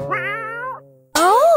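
A cat gives two clear, close meows in quick succession, the second louder and more drawn out, with a short silent gap between them and no talking.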